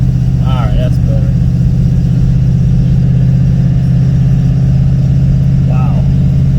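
An old Ford engine runs at a steady low idle, a close continuous rumble with people exclaiming and talking over it.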